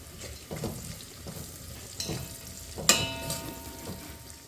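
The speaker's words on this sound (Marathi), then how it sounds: "आता आपला कांदा परतला आहे त्यात आपण एक काजू परतून घेऊ थोडेसे" Cashews fry with onion in oil and ghee in a pan while cooking Maharashtrian masale bhaat, a soft continuous sizzle with intermittent stirring scrapes and clinks, close and moderately quiet.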